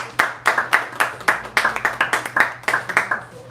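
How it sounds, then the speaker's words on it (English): A small comedy club audience in Toronto claps for a stand-up comic, with distinct bursts of handclaps in quick, uneven rhythm, close and loud, from a sparse crowd rather than a dense roar. "Clap it up for Sid,"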